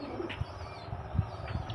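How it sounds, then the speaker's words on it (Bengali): Well-cared-for, active pet pigeons kept loose rather than caged give soft low coos and brief wing flutters, faint and close, with a few light bird chirps in a quiet background. "খুব অ্যাক্টিভ পায়রা, দাদা খুবই যত্ন করে পায়রাগুলো"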